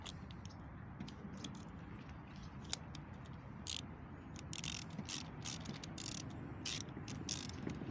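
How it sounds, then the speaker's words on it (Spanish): A size 8 socket ratchet tightening a new pre-lubricated universal joint on a driveshaft, rapid clicking pawl strokes in short repeated bursts, close and moderately loud, with no talking. "Igual con un dadito 8 se la apretamos."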